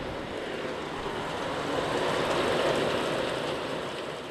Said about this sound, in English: Rain in New Hampshire.